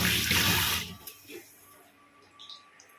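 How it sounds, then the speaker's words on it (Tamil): Running tap water pours over hands being washed in a home kitchen, a loud rush for about a second before the flow stops, leaving faint drips and small clinks. "இப்போ கை வாஷ் பண்ணிக்கலாம்."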